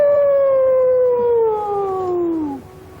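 A voice imitates a siren with one loud, close, drawn-out wail that slowly falls in pitch for about two and a half seconds, then cuts off.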